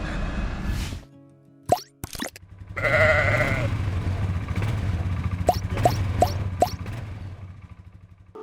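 Sheep and lambs at a livestock market let out a few bleats over a steady murmur of pen noise and shuffling, with several sharp plop-like knocks and clatters close by and no clear talking.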